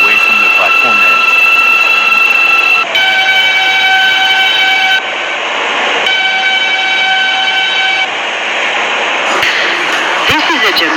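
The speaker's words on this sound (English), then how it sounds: "There is a local train approaching the station." R160A J local subway train arriving at a station, loud rumbling with sustained high tonal whines and squeals that shift in steps, heard with a station announcement voice.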